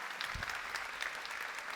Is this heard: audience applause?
yes